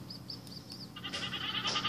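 Goats bleat in a video game, short high-pitched calls repeating at first, then a brighter, louder bleating burst over a constant low background hum.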